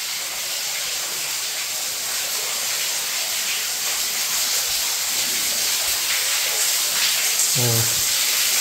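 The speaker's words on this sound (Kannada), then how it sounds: "ಫುಲ್ಲು ನೀರು ಬೀಳ್ತಾ ಉಂಟು ನೋಡಿ ಮೇಲಿಂದೆಲ್ಲ." Water falls steadily from above inside a cave at a Basadi temple site, a continuous rushing hiss that fills the whole stretch, with a brief voice near the end.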